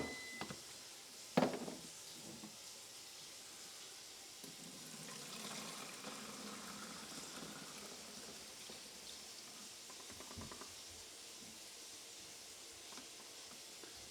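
Darkroom film-developing solution (bleach or fixer) poured back into its bottle, a faint, steady liquid hiss and trickle with a sharp clunk near the start and softer handling knocks later.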